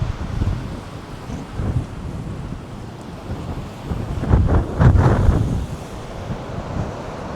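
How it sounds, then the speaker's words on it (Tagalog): Strong wind in New Zealand buffets the microphone in rumbling gusts, with a low roar like surf underneath and the loudest blasts coming midway. "Ang hangin."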